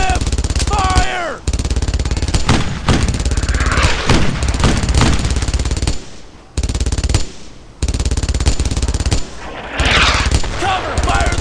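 Rapid machine-gun bursts and rifle shots crackle through a World War II firefight in Brothers in Arms, loud and near, in repeated volleys separated by short pauses, with shouted voices among the gunfire.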